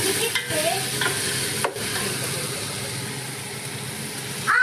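Onions frying in a pan as the masala base for a homemade lasagna. The sizzle is a steady, close hiss throughout, with a brief scraping stir near the end.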